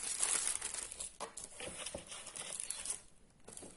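Plastic packaging crinkling and tearing close up as a Stamperia craft-supply haul parcel is opened, irregular rustles and crackles continuing throughout with a brief lull near the end, no speech.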